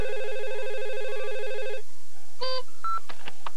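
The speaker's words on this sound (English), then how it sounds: "Oh, let the machine get it, Molly." A telephone rings indoors with a repeating electronic warble, then stops and is followed by a few short beeps and tones like an answering machine picking up.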